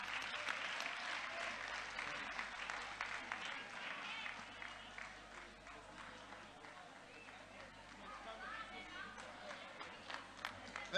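Crowd applause at a Youth Day celebration led by President Ramaphosa, sustained scattered clapping from a large outdoor audience heard at a distance, with voices mixed in.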